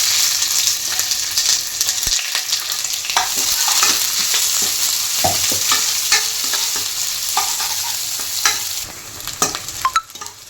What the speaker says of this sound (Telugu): స్పైసెస్ వేగిన తర్వాత ఇంట్లోనే మనం సన్నగా తరిగి పెట్టుకున్న ఆనియన్స్ వేసుకుందాం.